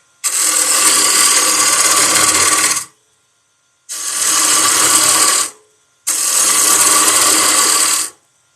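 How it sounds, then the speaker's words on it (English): A gouge cuts into a spinning wooden bowl on a lathe in three loud, sustained bursts of harsh scraping and rattling, each lasting about two seconds with short silent gaps between them. "When it starts rattling, it's because I have too much. I'm just pushing the gouge."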